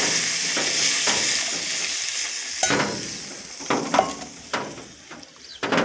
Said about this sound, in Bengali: আমি এখন পরিমাণ মতো জল দিয়ে দিচ্ছি